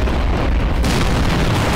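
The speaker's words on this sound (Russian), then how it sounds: "без взрывов никак" A loud, dense explosion in the video game Garry's Mod, a sustained broadband roar that fills the whole clip with no speech over it.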